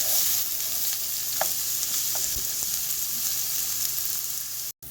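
Onions and meat for a French-Canadian tourtière frying in a pan, a steady close sizzle throughout with a few light clicks of stirring and no talk.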